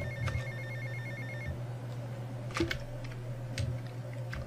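A telephone rings in the GTA Vice City video game, a repeating electronic ring in two short bursts heard over a steady low engine-like hum, with a few clicks and a thump partway through.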